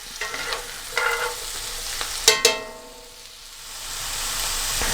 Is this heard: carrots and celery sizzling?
yes